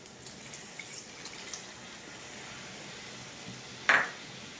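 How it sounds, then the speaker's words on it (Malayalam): Half a cup of water goes into a pan of chili chicken in one short, faint splash, preceded by quiet background hiss. "ഒരു അരക്കപ്പ് വെള്ളം കൂടി ചേർത്ത് കൊടുക്കാം"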